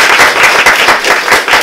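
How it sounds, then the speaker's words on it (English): Applause from an audience at a club awards presentation, dense rapid clapping held at a steady loud level throughout, close and full with no voices over it. "Can we give you a round of applause?"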